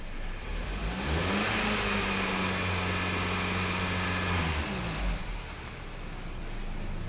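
A Hyundai GDI engine suffering low power and long crank times is revved from idle to about 3,000 RPM, holding a steady drone for several seconds before dropping back, heard moderately close with no talking.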